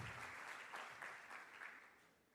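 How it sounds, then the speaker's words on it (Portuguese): Audience applause for Jesus at a Brazilian evangelical worship service, a steady crowd clapping that stays loud and dense before tapering slightly toward the end. "Aplaudir a Jesus."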